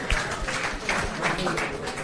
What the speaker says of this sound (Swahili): Asante sana, tupige makofi.